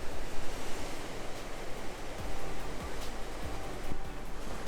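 Sea waves wash against the rocky shore at Riomaggiore in the Cinque Terre, a broad, steady surf roar with swelling surges and some wind buffeting the microphone, heard with no voices.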